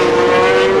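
A Cagiva 500cc Grand Prix racing motorcycle at the 1990 Italian 500cc Grand Prix, its two-stroke engine screaming at high revs in one brief, loud, steady burst.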